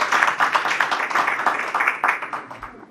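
An audience at a water management conclave in Maharashtra claps for a panel, a brief moderate burst of scattered hand claps that pulses unevenly and tapers off.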